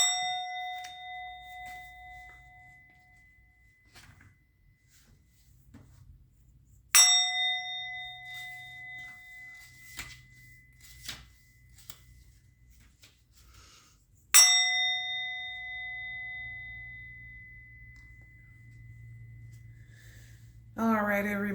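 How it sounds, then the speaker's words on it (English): A bell struck three times, each ring clear and sustained with a long fading resonance, spaced several seconds apart, with soft handling noise in between. "I'm going to ring the bell."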